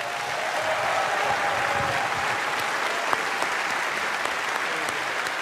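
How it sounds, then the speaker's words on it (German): An audience in Saarbrücken applauding at a comedy show, a close, dense and sustained wash of clapping that keeps a steady level throughout. "vorher gibt es einen fetten Applaus für alle Genannten und für euch"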